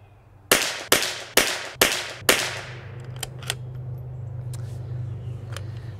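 Five sharp rifle shots from a Bergara B14R Heavy ring out in quick succession at a steady pace, each loud crack trailing into a short echo, followed by fainter distant pops over a low outdoor hum.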